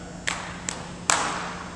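Three sharp hand claps ring out at a steady count during a tinikling dance lesson in a physical education class. The claps are close and distinct, with no talking between them.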